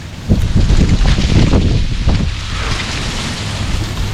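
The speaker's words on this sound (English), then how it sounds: "The wind is swirling around." Wind gusts and swirls outdoors on a village green, buffeting the microphone with loud rumbling bursts that ease into a softer steady rush.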